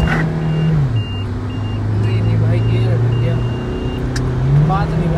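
A Mahindra Scorpio and an XUV300 line up for a drag race. A loud, close engine drone drops in pitch and then climbs again as the revs rise, with voices faintly in the background.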